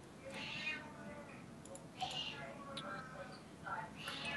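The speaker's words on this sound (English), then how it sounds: "My cat is freaking out over there." Pet cat meowing in a room, several short rising meows scattered over a few seconds, fairly close, with soft clicking and murmured speech underneath.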